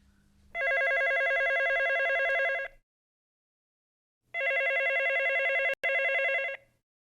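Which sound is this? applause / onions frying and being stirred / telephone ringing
telephone ringing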